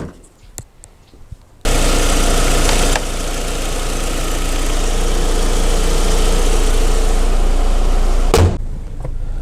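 A 1.6-litre VW Bora engine starts and idles to warm up after a timing belt swap, a steady low mechanical hum with a brief revving lift near the start, running alone at close range before cutting off.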